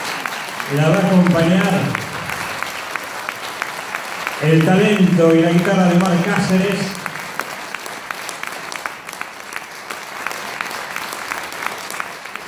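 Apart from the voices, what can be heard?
audience applause for a singer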